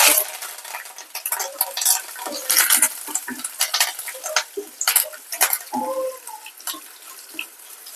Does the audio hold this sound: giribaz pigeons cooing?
no